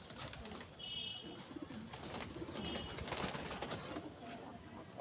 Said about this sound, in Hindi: बहुत बढ़िया कबूतर